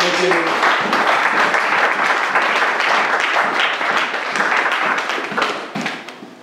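Congregation applauding during a church service, a dense, steady wash of many hands clapping throughout that fades slightly at the very end.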